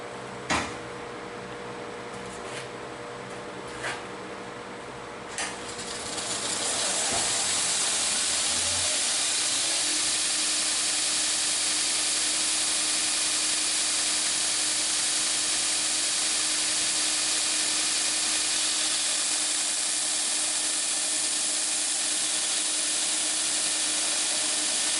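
Power sanding of wooden blocks being prepared as knife handles, a few sharp knocks first, then a steady loud continuous hiss and whir that holds for the remaining twenty seconds without talk.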